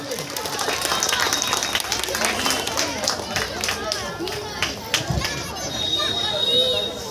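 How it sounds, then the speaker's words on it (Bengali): Crowd applause at a Covid warriors felicitation ceremony during a Saraswati Puja club event, a steady wash of many hands clapping mixed with crowd chatter and a voice speaking over it throughout. "একটু জোরে করতালি সবাই মিলে স্যারকে বরণ করে নিচ্ছি আমরা"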